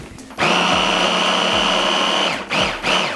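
A blender grinds tapenade ingredients with lemon juice in a loud, steady whir lasting nearly three seconds, then briefly dips and restarts in short pulses.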